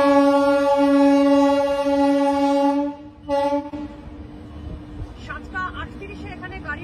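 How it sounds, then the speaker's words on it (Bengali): A Shatabdi Express train pulls into Durgapur station with a long, loud, steady horn blast, then gives way to rumbling carriages and station bustle with voices talking nearby. "দুর্গাপুরের 7:52 এখানে ট্রেন ঢুকলো"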